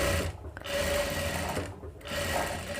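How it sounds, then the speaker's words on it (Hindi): Sewing machine running a topstitch seam on a boat neck blouse, steady rapid mechanical whirring that pauses briefly twice, close and fairly quiet, with no talking. "अब हम इस पर एक ऊपर से सिलाई लगाएंगे।"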